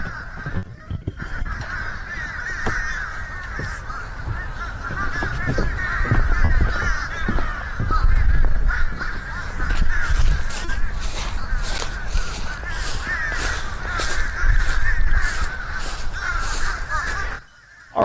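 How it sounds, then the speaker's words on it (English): Crows caw repeatedly outdoors, a steady chorus of harsh calls over low rumbling background noise, with occasional footstep-like sounds. "lots of bird noises."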